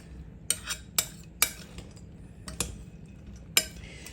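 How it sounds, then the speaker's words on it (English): A spoon scrapes and clinks through Hawaiian chicken salad in a bowl, several sharp strokes at irregular intervals over a quiet background. "stir that up really well"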